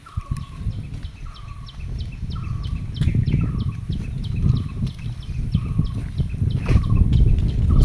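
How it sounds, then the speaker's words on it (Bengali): Birds call repeatedly near a large maize field and date palm grove in rural Thakurgaon, Bangladesh: a steady series of short chirps at an even rhythm, moderately loud over a continuous low rumble of outdoor background noise. "সুন্দর পাখি ডাকে।"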